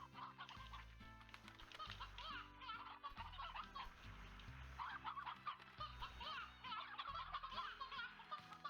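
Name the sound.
chickens in a coop, from video game Slime Rancher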